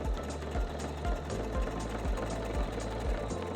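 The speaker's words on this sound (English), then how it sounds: "So if I wanted to, I could have the machine stitch sideways," A Pfaff quilting sewing machine stitching sideways, running at a steady rapid rhythm with a regular mechanical knock about twice a second, loud and close with no voices.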